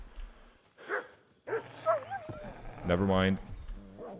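A dog whimpers and yips in Kingdom Come: Deliverance 2, giving short whines and one louder bark-like cry, while someone talks over the game sounds.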